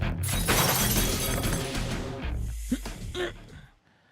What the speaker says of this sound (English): My back shatters the window, and I roll into the yard.